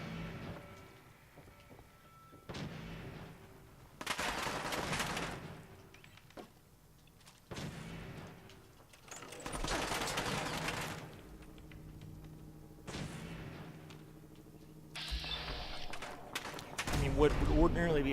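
Laser musket and pistol fire in Fallout 4, fought through the Museum of Freedom: several bursts of sharp shots and crackling blasts come in clusters, with a voice talking between them.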